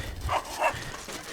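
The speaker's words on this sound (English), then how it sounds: "Crazy dogs." Two or three short dog barks and yips ring out on an off-grid homestead, moderately near and rising over a faint outdoor background, with no talk.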